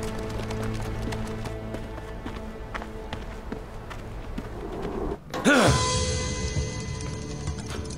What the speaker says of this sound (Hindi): घोड़े लेकर आओ।